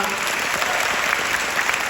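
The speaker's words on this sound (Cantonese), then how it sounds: "希望借各位觀眾嘅掌聲向以下嘅人士同機構作出致謝嘅" Audience applause at the curtain call of the stage play The Magic Hour at the Hong Kong Academy for Performing Arts: dense, steady clapping from a full house, continuous and even throughout.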